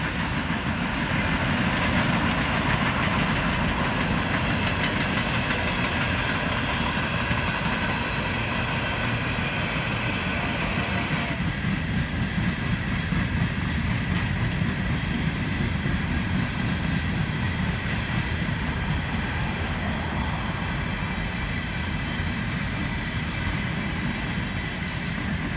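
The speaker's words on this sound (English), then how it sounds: "it was a Norfolk Southern southbound coal train on the Sandusky District, led by a C44-9W" Norfolk Southern southbound coal train on the Sandusky District, led by a C44-9W locomotive, rumbling loudly and steadily past with a continuous roar of wheels and cars for the whole stretch.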